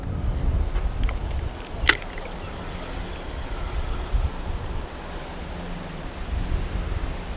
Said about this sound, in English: Wind's getting quite strong now.